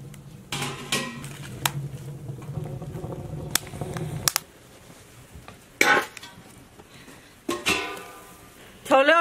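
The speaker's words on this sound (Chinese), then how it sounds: "盖上锅盖，把水烧开。" A lid goes onto a cooking pot of seasoned water with ginger, star anise, cinnamon, bay leaves, Sichuan pepper and rock sugar, giving a few sharp metallic clanks and clatters amid quieter handling noise.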